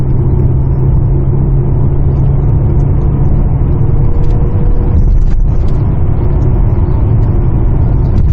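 A Hyundai Equus 380 sedan climbs a hill under acceleration, its engine a steady, continuous low rumble heard from inside the cabin with no talk over it.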